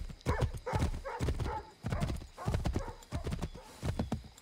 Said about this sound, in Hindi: तो अभी चलते हैं उस मिशन की तरफ, जल्दी से जल्दी घोड़े को भगाते हुए